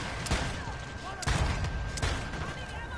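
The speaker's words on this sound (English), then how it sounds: "just firing down this alleyway at people" Rapid bursts of gunfire crack down an alleyway in a shooter video game, several sharp shots in quick succession over a steady background din.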